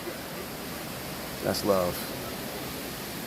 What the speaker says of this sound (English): Can y'all hear the waterfall?